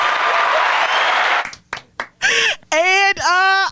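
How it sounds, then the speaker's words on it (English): A recorded applause sound effect plays on a talk show, a loud, dense burst of clapping lasting just over a second before cutting off, followed by people talking and laughing. "I was supposed to hit the applause."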